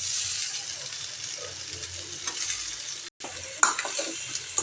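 Raw grated coconut fries in a pan, giving a continuous bright sizzle with scraping stir strokes throughout, a momentary gap, then renewed crackling.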